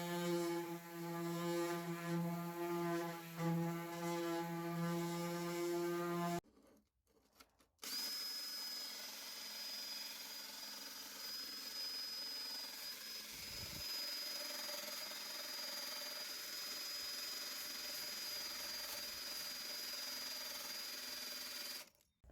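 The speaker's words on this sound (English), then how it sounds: "now I'm going to use the orbital sander with some 220 grit" An orbital sander with 220 grit paper works on a Land Rover Series III 109 rear tub, a faint steady whirring hum that pauses briefly and resumes with a thin high whine, without talk.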